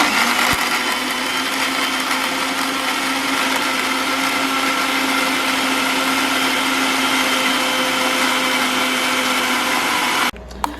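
A kitchen blender grinds aloe vera gel with curd in a loud, steady, high-pitched whir that runs for about ten seconds before cutting off abruptly, with no voices.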